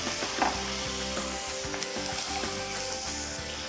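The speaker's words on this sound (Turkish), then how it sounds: "Havuçlarımı da soğanımla karıştırıyorum." Onions, garlic and carrots sauté in a pan for a Turkish bean dish, a steady close sizzle with faint stirring clinks and no voices.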